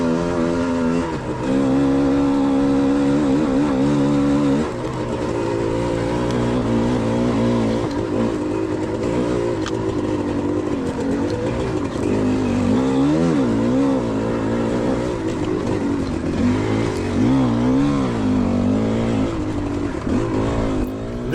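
A GPX off-road race motorcycle at Spaunton Quarry revs hard and continuously as its back wheel spins up, the engine pitch rising and wavering loudly throughout, no talking.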